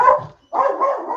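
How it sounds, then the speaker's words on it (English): Small dogs bark twice in quick succession, sharp and yappy, loud and close with a brief pause between the barks. "It's the little dogs."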